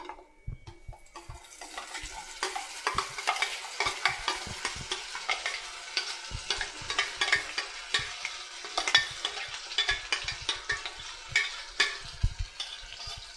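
A cashew masala mixture added to a hot pan with cardamom, sizzling and frying steadily while a utensil stirs and scrapes in quick, repeated strokes close up, with no voices.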